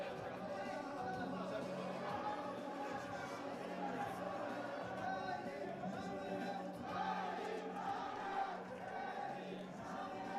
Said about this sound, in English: Pretty good crowd here.